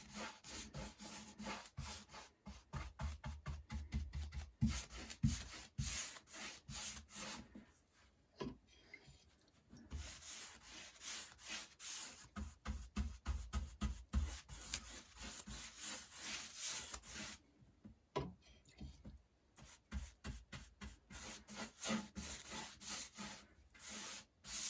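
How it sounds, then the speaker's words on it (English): A rag rubbing cherry wood stain onto sanded cedar, repeated close scrubbing strokes in quick rhythmic bursts with a couple of brief pauses between passes. "we're going to start putting our stain on"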